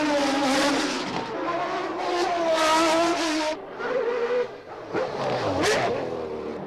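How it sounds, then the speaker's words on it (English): Formula 1 race cars lapping the circuit during a Grand Prix weekend session, loud high-pitched engines rising and falling as cars pass, with continuous roar and brief shifts between passes. "While the cars are out on the circuit"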